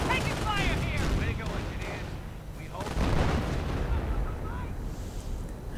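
Heavy machine gun fire from MG42 and LMG42 guns in a World War II strategy game, dense continuous bursts of gunfire mixed with booming battle noise throughout, loud and busy.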